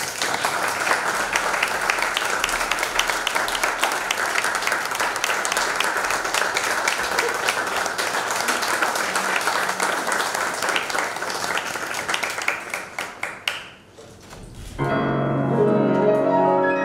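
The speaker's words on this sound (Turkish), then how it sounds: "Ve kendisini alkışlarla takdim ediyorum." Hall audience gives sustained applause welcoming a speaker, a thick continuous roar of many hands that thins out near the end before a low humming room tone takes over.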